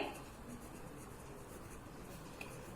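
Steady scratching of a pen or marker writing out equations for a linear-equations math lesson, soft and continuous with no talk.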